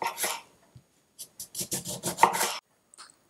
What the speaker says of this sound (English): So we're going to cut the lemon